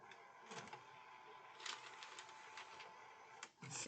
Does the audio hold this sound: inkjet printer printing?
yes